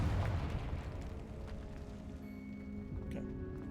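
A Confringo fire spell blast in Hogwarts Legacy, a loud rumbling burst at the start that decays into a crackling, fizzing tail with faint tonal game effects over the final seconds.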